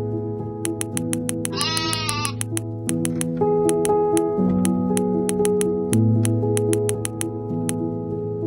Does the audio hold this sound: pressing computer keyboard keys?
no